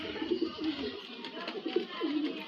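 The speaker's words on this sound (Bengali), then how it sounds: "একদম পিওর গোলা লাইনের পায়রা" A Gola line male pigeon coos in soft, throaty bursts while held in the hand at a Kolkata pigeon sale, the low murmuring calls repeating close up over about two seconds.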